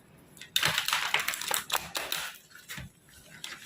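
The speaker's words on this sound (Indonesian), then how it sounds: "Aku akan langsung buka ya kartu tarotnya." Tarot cards are shuffled, tapped and laid out on a surface in a quick run of close, crisp rustles and flicks, then slower, sparser card slaps as the spread settles.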